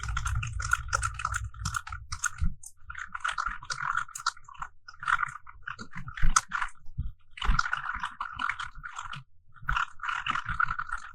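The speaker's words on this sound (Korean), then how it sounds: "엔터 치시면서 쭉 타이핑 해보세요." Someone types in a spreadsheet on a computer keyboard, hitting Enter now and then. The keys make rapid, close clicks and clacks in irregular bursts, with brief pauses between runs.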